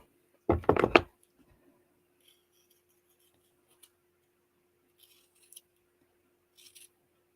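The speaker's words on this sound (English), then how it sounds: "you just trim your little tassel" Scissors trim a tassel with a quick cluster of close crisp snips, then a long near-silence broken only by a few faint ticks and light handling taps.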